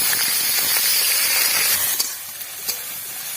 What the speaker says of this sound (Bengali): এখন মাছগুলো একটু ভালো করে ভেজে নেব